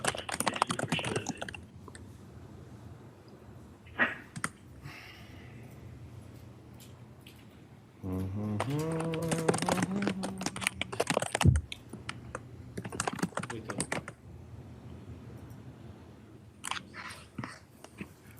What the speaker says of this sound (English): it does sound like typing